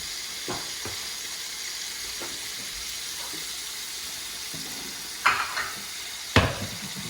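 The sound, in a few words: mushrooms frying with bacon in a pan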